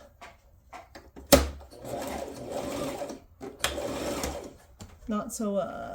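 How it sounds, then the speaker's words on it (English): A sewing machine runs in short whirring bursts, separated by sharp clicks and handling knocks, with a voice speaking briefly near the end. "Okay, so I have my sewing machine set up right here."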